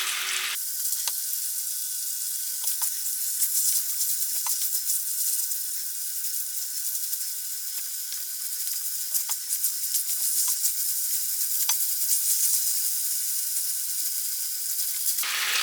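Slivers of lamb stir-frying in a hot pan, a loud continuous bright sizzle with scattered crackles and pops throughout, no voices.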